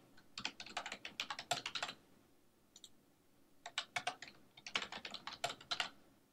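Fingers type value labels on a computer keyboard in quick bursts of crisp, close clicks, with a short pause between two runs of keystrokes and nothing else heard.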